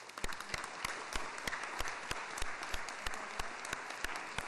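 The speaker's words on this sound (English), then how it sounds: "So I think they deserve a round of applause" Sparse, fairly quiet clapping from a city council meeting audience, individual sharp claps spaced irregularly and carrying on steadily for several seconds.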